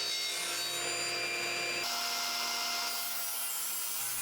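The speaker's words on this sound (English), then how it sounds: "The 45-degree blade makes quick work of the money side of the sled." A saw blade tilted to 45 degrees cuts through a wooden miter sled, giving a steady, loud, close rasping whine that shifts in tone partway through, with no talking.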